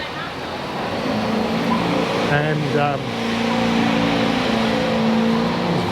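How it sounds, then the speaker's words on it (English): Noisy buses passing on a road, a constant roar of heavy engine and traffic noise that rises and falls slightly, with a person briefly talking over it. "these buses are so noisy"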